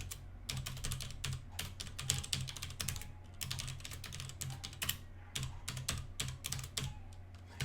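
Fast, close keystrokes clatter on a computer keyboard as C++ code is typed, coming in dense bursts with brief pauses over a low steady background hum.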